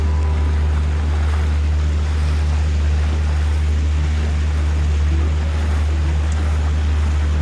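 A boat cruises across a lake at about 6.8 miles per hour, with a steady low engine drone under continuous rushing water and wind noise and no talk.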